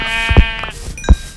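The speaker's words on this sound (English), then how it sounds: "So, ooh, a sheep." A sheep in the video game Minecraft bleats twice, short loud wavering calls close by and separated by a brief pause.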